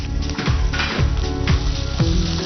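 Ginger and garlic are added to browned onions frying in oil, setting off a steady, fairly loud sizzle and crackle, with a few soft stirring knocks repeating about every half second.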